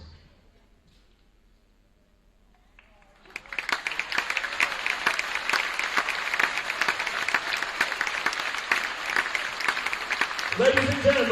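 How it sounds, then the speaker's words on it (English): Audience applause at a high school basketball 1,000-point ceremony in a gym, bursting in after a quiet stretch and holding as dense, steady clapping from a large crowd, with a voice rising near the end. "one final round of applause for Eastwood royalty"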